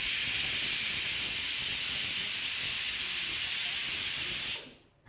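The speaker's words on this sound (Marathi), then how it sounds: "मोठ्या गॅसवरती कुकरची 1 शिट्टी काढून घ्यायची आहे." Pressure cooker on a high gas flame venting its whistle, a loud, continuous, close rush of hissing steam that holds steady for several seconds, then cuts off abruptly into quiet.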